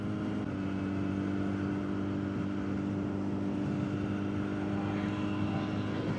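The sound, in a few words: airplane flying overhead near an airport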